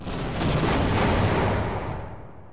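A bomb blast in the video game Half-Life lands as a single loud burst of noise that swells for about a second and then fades into a decaying rumble.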